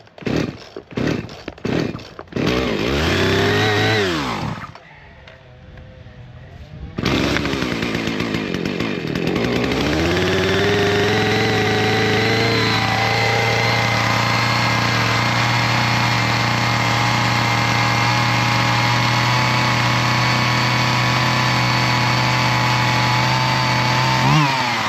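Chainsaw pulled several times, then firing up and settling into a steady, loud warming-up idle after a brief pause, a high buzzing engine close by with no voices.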